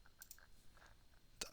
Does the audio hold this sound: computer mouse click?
yes